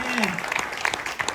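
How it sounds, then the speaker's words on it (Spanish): Congregation clapping during a church service for young people, dense scattered claps filling the short stretch, with a voice briefly audible underneath at the start. "dale otro aplauso al Señor"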